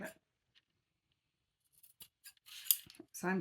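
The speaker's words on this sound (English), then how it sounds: "Scissors." Scissors snip through paper during junk journal crafting, a few crisp cuts in the second half following a quiet stretch, close and fairly soft.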